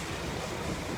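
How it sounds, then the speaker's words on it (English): Heavy rain pouring down outdoors, a dense, steady hiss of drops filling the whole short stretch with no pause and no voices. "it's chucking it down with rain"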